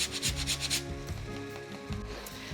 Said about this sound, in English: you're gonna wanna grate in about a tablespoon of fresh ginger